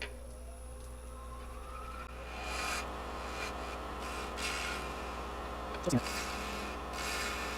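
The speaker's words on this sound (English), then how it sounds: "I'll have to scoop that with a larger gouge here." A large woodturning gouge scoops and scrapes wood on a spinning lathe while turning a lid, giving a continuous close rubbing rasp with faint motor hum and a brief louder scrape; a person speaks a single word.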